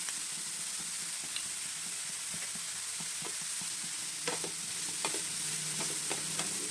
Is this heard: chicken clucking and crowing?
no